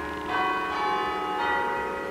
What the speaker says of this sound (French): Très jolies les cloches